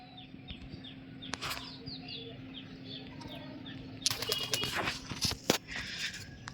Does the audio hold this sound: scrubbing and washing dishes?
no